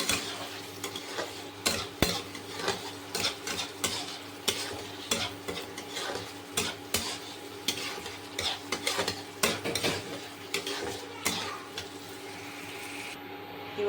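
Onion, ginger, garlic and tomato paste with salt, turmeric and cumin powder being stir-fried in a pan for a fish curry, with steady sizzling under repeated scraping and clinking of a spoon against the pot, close and fairly loud.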